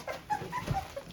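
Dehydrated, thirsty young puppies whimpering close by, a few short thin high whines strung together over a soft background, with no talking.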